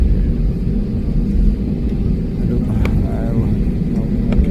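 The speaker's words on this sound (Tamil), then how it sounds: "ஃப்ளைட்டு மேலே டேக் ஆஃப் ஆகும்." Airplane taking off from an airport, a steady low rumbling engine roar that holds throughout at moderate distance, with faint background sounds and no clear talk.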